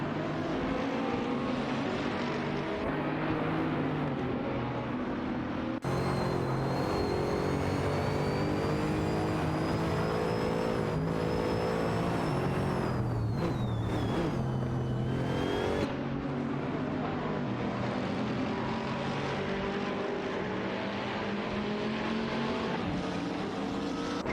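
GT3 race cars, including a McLaren 650S GT3, an Audi R8 LMS Ultra and a Renault Sport RS01 GT3, race in a video game, producing a dense, continuous engine roar with shifting revs and a passing whine partway through, loud and with no voices.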